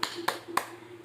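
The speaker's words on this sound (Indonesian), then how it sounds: "Sekarang, mari kita berikan tepuk salut untuk kita semua." Three faint, sharp claps in steady rhythm, spaced about a quarter second apart, belong to a children's salute clapping routine in a classroom. A low hum sits beneath them.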